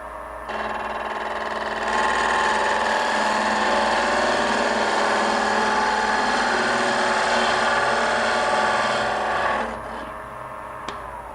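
A wood lathe runs steadily while a chisel braced on the tool rest cuts a spinning furniture part, giving a loud, even machine drone that starts, holds for about nine seconds, then winds down.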